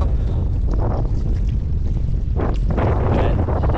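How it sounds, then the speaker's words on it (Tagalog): Strong wind buffets the microphone with a constant low rumble and gusty roar throughout. "Medyo mahangin pero di kagaya kahapon."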